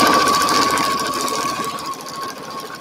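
A sewing machine stitches a seam on a crumb quilt with right sides pinned together, a rapid steady mechanical whir with a faint high whine, close, fading slightly toward the end, with no talk.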